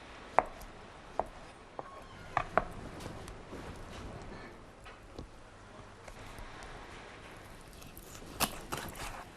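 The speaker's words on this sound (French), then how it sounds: "on commence d'abord par hacher le cive, le persil, le thym. Ensuite, on coupe la tomate." A knife chops chives, parsley, thyme and tomato on a board: a scattering of sharp, quiet taps spread unevenly across a low background hiss, some in quick pairs, with no talk.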